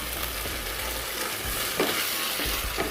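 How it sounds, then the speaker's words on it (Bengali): Curry sizzles hard in a pan just after water is added, a dense, steady frying hiss close up, with the scrape of a spoon stirring through it. "জল দিয়ে এভাবে নাড়াচাড়া করতে হবে।"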